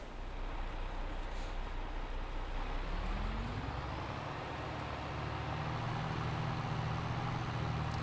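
A tractor engine in Farming Simulator 22 drones continuously with a low rumble, its pitch rising partway through as the machine revs up and moves off.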